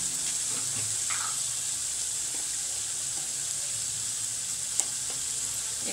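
Coconut and garlic paste sautés in a pan with turmeric for a cluster bean curry, giving a steady close sizzle with a few soft stirring scrapes and one brief clink near the end; no one speaks.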